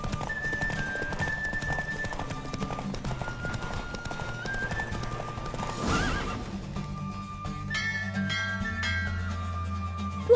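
Rapid clip-clop of galloping hooves with a horse neighing and whinnying during a horse race in The Witcher 3: Wild Hunt, over a steady layer of music.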